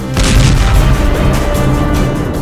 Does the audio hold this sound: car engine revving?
no